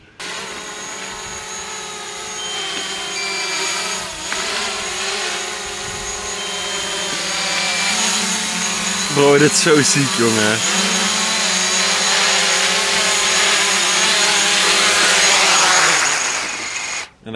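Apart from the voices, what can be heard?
drone flying overhead in sport mode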